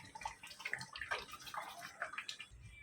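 Hot water splashes and gurgles as it pours into a pot of dhaba-style chicken curry, a soft continuous stream for a few seconds, fairly quiet and close.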